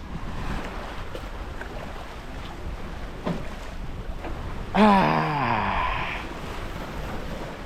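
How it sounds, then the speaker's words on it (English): Sails flapping aboard a cruising sailboat at sea, a rough, wind-driven rustle and whoosh with water noise throughout, and a brief voiced exclamation cutting in partway through. "That flapping is awesome, right? It sounds like the boat's gonna explode."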